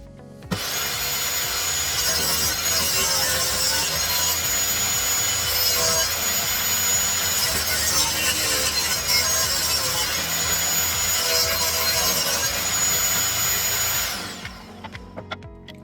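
Pallet wood pieces being trimmed with a power saw for a beer crate, one continuous loud whining, rasping cut running about fourteen seconds before spinning down, close up with no talk.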